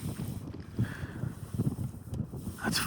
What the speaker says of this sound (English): It's a little windier than I'd expected